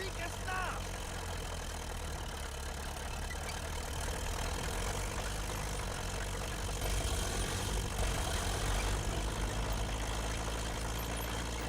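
A WWI-era tank's engine rumbles steadily in a strategy video game, a continuous low idling drone with a slight knock, holding an even level with a small swell near the end.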